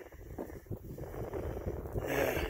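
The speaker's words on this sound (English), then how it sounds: "It's windy." Blustery wind buffets the microphone beside beehives with a steady low rumble that swells louder toward the end.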